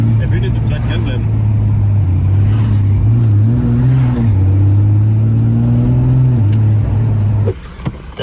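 A loud 1000 hp Toyota Supra engine revving hard at the Nürburgring, its droning tone climbing and dropping as the gearbox upshifts on its own, then cutting off abruptly near the end.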